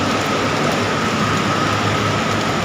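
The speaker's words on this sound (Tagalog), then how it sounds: "Ulan na ngayon." Heavy rain on the South Super Highway, a dense, constant hiss of downpour close and loud with no breaks and no voices.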